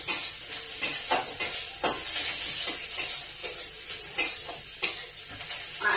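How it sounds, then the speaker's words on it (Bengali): Onions fry in a pan with a soft sizzle under regular clinks and scrapes of a utensil against the pan, close by and moderately quiet, with no talking. "এখানে আমি ডিমটা ঝপাঝপ রান্না করার জন্য পেঁয়াজটা ভাজছি"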